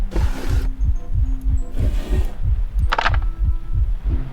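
A steady, heavy heartbeat thumps in the horror game Layers of Fear, deep double pulses repeating evenly under a low hum with a faint tonal drone.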